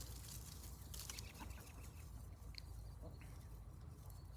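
Hens clucking in a backyard flock of North American yard birds, a steady low farmyard murmur of soft clucks with a few brief higher calls, close and continuous with no talking.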